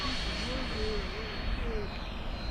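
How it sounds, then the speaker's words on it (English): A Banana Hobby HSD Viper Jet, a 75mm electric ducted-fan RC jet on 6s power, roars past at full throttle in a low high-speed pass, a steady loud whine with a faint shifting tone throughout. "Bring it by full throttle. High speed pass down low."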